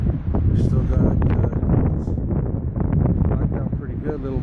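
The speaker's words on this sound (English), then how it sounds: "for as much wind as we got going" Strong wind buffets the microphone at a wall tent campsite with a constant low roar while people talk over it.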